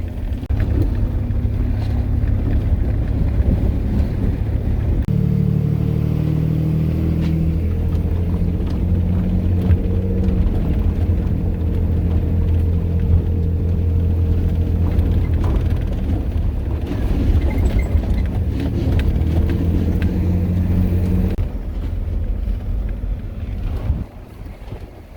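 Steady low rumble of a four-wheel-drive vehicle towing a small trailer on a rough track through Cottonwood Canyon in Death Valley, engine drone and wind buffeting the microphone throughout, with rattling bumps and no talking.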